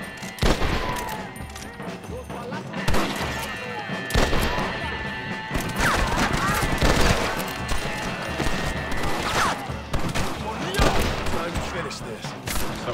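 Dense gunfire from a Red Dead Redemption shootout on PS4, with rapid volleys, crashes and repeated loud shots throughout, a voice shouting over the din.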